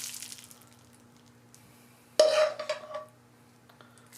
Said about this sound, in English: Listen to that, like, sizzle.